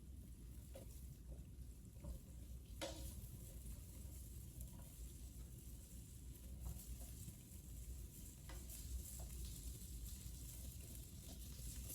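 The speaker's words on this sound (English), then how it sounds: "add a tablespoon of olive oil to your skillet. The skillet has already been heated. And I'm gonna add those onions in." Onions fry in olive oil in a preheated skillet, giving off a faint, steady sizzling hiss broken by a few light clicks, with no one talking.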